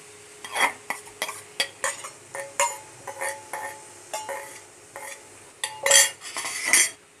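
Spoon scraping and clinking against a pan while dried bombil fish chutney with green masala and salt is mixed, a steady run of close, sharp metallic strokes with no voices.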